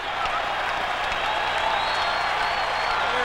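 A baseball stadium crowd of about 25,000 at a 1994 Red Sox versus Twins game makes a broad, sustained roar, continuous and even across the whole moment.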